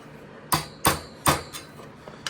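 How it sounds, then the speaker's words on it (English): A hammer strikes metal during replacement of the evaporator in a Viking VUAR151FS beverage center, three sharp close blows in quick succession followed by a few lighter taps. "I'm gonna use the hammer a little bit more."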